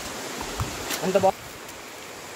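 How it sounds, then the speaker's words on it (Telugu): Water from Rapur waterfall near Nellore, Andhra Pradesh, flows in a steady, even rushing wash, with a voice speaking briefly over it. "చూడండి అందమైన జలపాతాన్ని, ఎంత అద్భుతంగా ఉందో"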